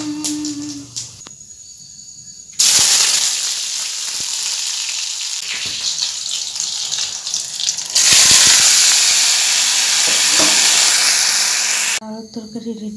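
Potato curry tipped into a hot pan, bursting into loud hissing sizzle in two strong spells, with quieter kitchen clatter before, between and after.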